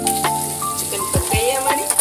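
Chicken sizzles steadily in a pan while being cooked down until tender, a continuous crackling hiss broken by a few short scraping stirs, close and fairly loud with no talking.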